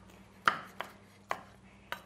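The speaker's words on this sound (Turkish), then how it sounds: "Evet, şöyle biraz kayısılarımı kesiyorum." A knife chops apricots on a cutting board set on a wet napkin, four sharp, separate thunks spaced irregularly over quiet kitchen background.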